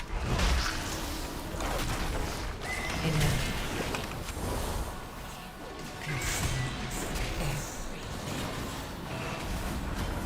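In World of Warcraft, a horse neighs and whinnies amid busy battle noise. Crashes, swooshes and clattering hoofbeats fill the mix around it.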